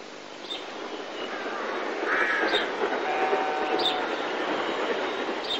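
A 7F steam locomotive, number 53808, approaching on the Somerset & Dorset line, a broad rumbling roar that swells gradually as it nears, with faint clanks and a distant bird call.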